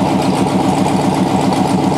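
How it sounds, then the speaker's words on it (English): Car engine idling high just after a cylinder heads and camshaft swap, a steady, loud mid-low rumble with an even pulsing rhythm throughout, heard alone without talk. "That sucker idling high."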